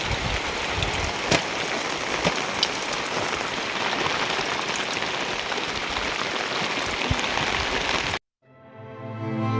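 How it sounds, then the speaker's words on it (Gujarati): Steady rain pouring down outdoors on a farm, a dense even hiss of drops on surfaces close by with a few louder drips, then cutting off abruptly near the end. "આવી ગયો છે વરસાદ હવે કઈ દવા છટાશે નહીં"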